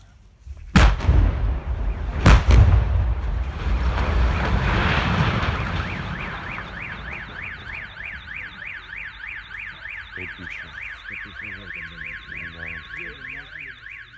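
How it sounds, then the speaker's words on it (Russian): Two heavy booms from a demolition blast on a building's front section by military sappers, followed by rolling rumble and then several parked cars nearby wailing their alarms in a cycling siren pattern. "От громкого взрыва завыли припаркованные неподалеку авто"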